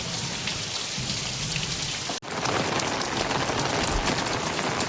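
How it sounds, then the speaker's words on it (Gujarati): Heavy village rain pours steadily onto fields and surfaces, a dense, loud, continuous hiss that briefly drops out for a moment before resuming at full strength. "અત્યારે વરસાદ બહુ સારો છે"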